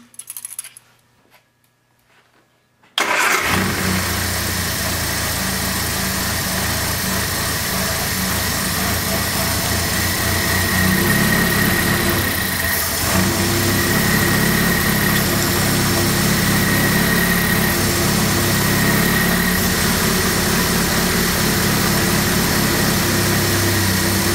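A car engine with a Zenith Stromberg 150CD4T carburetor idles steadily and loudly after a quiet start, a continuous hum with a slight rise in revs partway through during mixture adjustment.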